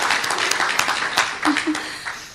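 Audience applause at an annual general meeting of a genealogy society, a dense, close burst of clapping that holds through the clip and slowly thins, with a couple of brief voices mixed in.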